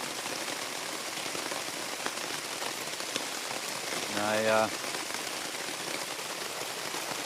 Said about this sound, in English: it's rain's coming down so hard, it's and so fast that it can't even soak into the ground